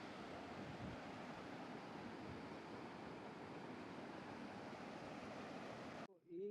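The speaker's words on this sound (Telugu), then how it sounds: "సో వాగే ఇదంతా." Floodwater of a swollen stream rushes steadily over a washed-out road between Kondurgu and Naupet, a continuous loud roaring flow that cuts off abruptly near the end.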